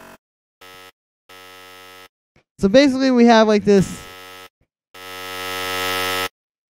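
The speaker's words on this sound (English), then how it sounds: "just very fast, sort of buzzy kind of sound" Short bursts of a fast, harsh electronic buzz, a looped Fortnite building sound, repeat in a loop, broken by someone speaking briefly in the middle.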